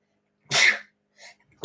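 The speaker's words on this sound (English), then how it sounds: "I had to sneeze." A single sharp sneeze bursts out close by, loud and brief, followed by a faint breathy sound moments later.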